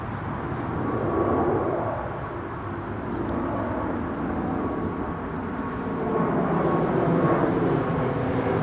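At sunset a Lufthansa neo jet departs London Heathrow runway 09R, its engine roar a steady, moderately loud rumble that swells slightly toward the end.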